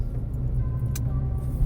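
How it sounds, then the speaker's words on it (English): Cars roll past along a road near a flea market in the morning, a low steady engine and tire rumble at moderate distance with a brief rattle partway through. "Fair number of cars driving down the road leaving"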